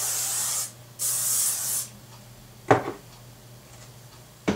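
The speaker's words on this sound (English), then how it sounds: "and then a final hairspray." Hairspray hisses onto styled hair in two steady bursts, close and loud, followed by a couple of faint handling knocks and no speech.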